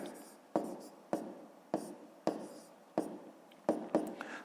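A pen writes numbers on paper during a fifth-grade maths fraction exercise, with eight sharp scratchy strokes at a steady rhythm, close and fairly quiet, no voice.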